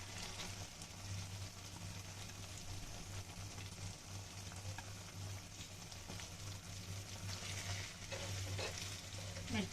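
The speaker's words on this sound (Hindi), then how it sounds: "मिर्चें शामिल करके आहिस्ता से हिला देंगे।" Green chillies being stirred and frying in a curry, a steady soft sizzle with occasional scraping stirs, faint and close, with no talk.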